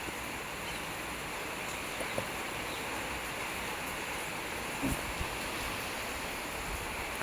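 Heavy rain pours down across a village, a steady, dense wash of noise without pause, heard from under shelter with a couple of faint knocks and drips rising briefly above it.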